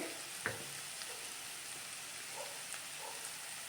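Ground cumin, chili powder and coriander powder fry quietly in a pan for radish sambar, giving a soft, steady sizzle with a brief clink near the start.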